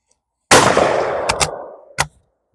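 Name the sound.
16 gauge bolt-action shotgun firing at clay target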